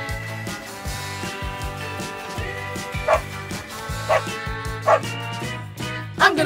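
Small pet dog yipping and barking in short sharp bursts, several loud yips spaced a second or so apart near the microphone, with background music and light voices.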